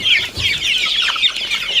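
Several Spanish naked-neck and Master Grey chickens cluck and chatter continuously nearby, busy overlapping calls with no talking.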